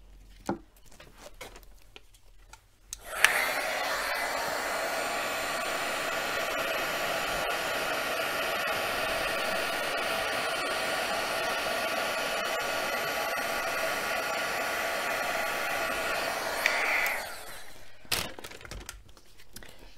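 A craft heat tool blasts hot air to melt clear embossing powder, switching on after a few seconds of faint handling noise, blowing a loud steady whoosh for about fourteen seconds, then cutting off.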